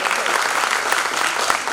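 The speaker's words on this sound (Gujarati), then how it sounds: "જરીક તાળી પાડીને ખંડ ગજવીએ" An audience at a Gujarati gathering claps together in a dense, continuous burst of applause, close and loud throughout.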